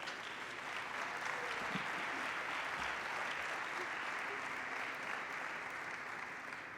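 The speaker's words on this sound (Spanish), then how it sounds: "Lo recibimos con un gran aplauso." Steady applause fills a congress hall as a large audience claps continuously at an even level for several seconds, with no voices standing out.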